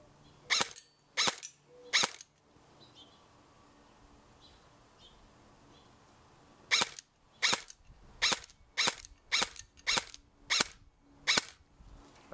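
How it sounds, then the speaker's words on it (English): A G&G CM16 airsoft rifle firing in semi-auto: three sharp cracking shots at the start, a quiet pause, then a run of eight evenly spaced snappy shots, close and clear. "I don't think it's strong enough to hit the target back up, so maybe I'll just shoot at the thing there."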